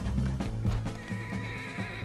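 A horse neighs and whinnies loudly and close in Red Dead Redemption II, its call broken by thudding hooves and game action over about two seconds.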